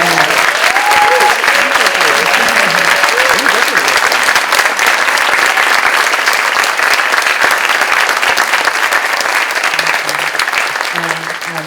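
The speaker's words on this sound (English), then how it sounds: "give them a round of applause too" A theater audience gives the film crew a sustained round of applause, dense and loud throughout, with a voice speaking faintly underneath as the clapping gradually eases.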